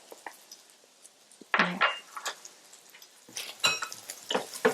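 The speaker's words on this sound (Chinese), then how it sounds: "我们就可以加入我们的蒜头。" Garlic goes into a pan on low heat for a seafood vermicelli casserole and is stirred, with scattered utensil scrapes and clinks against the pan over a faint sizzle.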